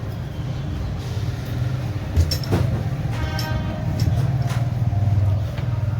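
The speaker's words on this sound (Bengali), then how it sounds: "আমাদের ট্রেন ছেড়ে বেরিয়ে গেছে পাকুড় স্টেশন থেকে ছেড়ে বেরিয়ে গেছে" An Amrit Bharat Express train pulling out of Pakur station rumbles with a steady low drone. A sharp clank lands partway through, and the rolling noise swells slightly toward the end.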